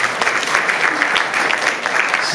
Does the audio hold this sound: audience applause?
yes